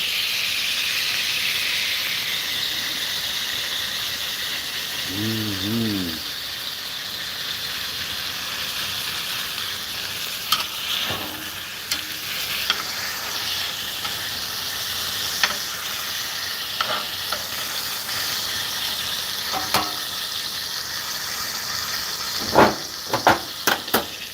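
Sizzling steak in a pan gives a long, steady hiss with sharp pops and spatters scattered through it, loudest toward the end, and a brief low hum partway in.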